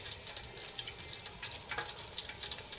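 Cumin seeds sizzle and crackle in hot oil in a pan already used for frying okra, a dense, steady hiss of bright pops heard close up with no talk.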